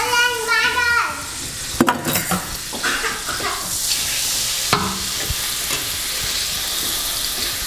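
Salted butter sizzles in hot oil for Pinoy-style fried rice, a steady frying hiss with clinks of a utensil against the pan. No one talks.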